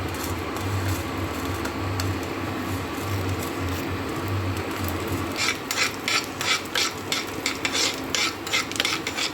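A spoon scrapes and stirs lentils (dal) as they roast in a pan, a continuous dry rasping that turns into a brisk, rhythmic scraping toward the end, with no talking.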